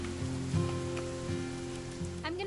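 Steady rain in the video game What Remains of Edith Finch, a soft, faint hiss of falling drops with quiet tonal ambience and a brief rising chime near the end.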